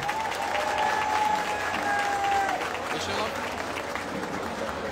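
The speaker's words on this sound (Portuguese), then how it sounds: "Uma salva de palmas, obrigado." Crowd applause at a carnival samba school's queen coronation event, with steady dense clapping throughout under a voice speaking over it.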